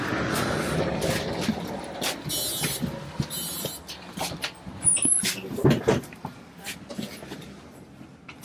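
Riding a city bus through Wrocław, Poland: a steady engine rumble and road noise fill the cabin, broken by knocks, rattles and short clunks, with occasional faint voices.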